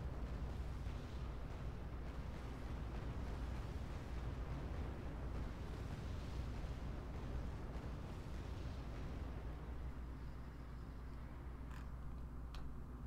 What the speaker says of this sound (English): Got another BM-24 napalm rounds coming in.